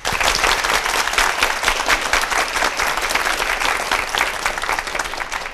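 Loud, dense audience applause welcoming a lecturer at a televised lecture, continuous clapping from a large crowd sustained throughout without a break.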